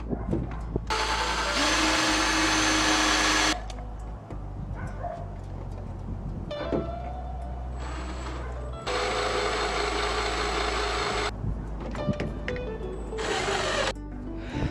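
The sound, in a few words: drilling a hole in a stuck Jeep bolt for an extractor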